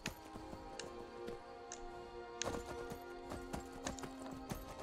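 Horse hooves clip-clop in the game Skyrim, a quick steady trotting rhythm of close, fairly loud footfalls over ambient game music and environment sound, with no talk.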